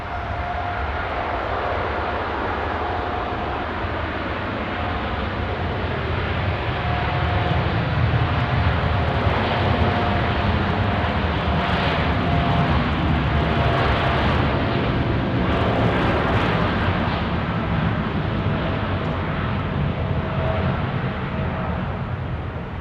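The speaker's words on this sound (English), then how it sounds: "as this aircraft takes up, Nigel, we're seeing a lot of condensation" A Jetstar airliner runs its engines on runway 16 right at Sydney Airport on a foggy night. A loud, continuous jet roar with a steady tonal whine rises and shifts slowly as the aircraft rolls, with no voices over it.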